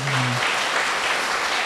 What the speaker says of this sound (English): Shall we give a big round of applause to them?